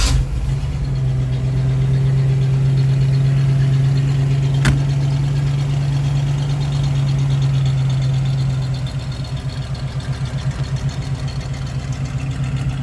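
A 1979 Jeep Renegade CJ-5 engine idling close by, a loud, steady low rumble with a rhythmic pulse that softens slightly toward the end, with a single sharp click partway through.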